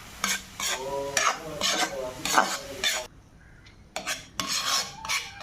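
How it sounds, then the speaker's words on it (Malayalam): Chopped cabbage and green gram with salt are stirred in a pan, producing repeated close scraping and rasping strokes over a light sizzle, with a brief quiet pause partway through. "നമ്മൾ അരിഞ്ഞതിടുന്നു എന്നിട്ട് നമുക്ക് ഉപ്പും കൂടിട്ട് നന്നായിട്ടൊന്ന് ഇളക്കി യോജിപ്പിക്കാം"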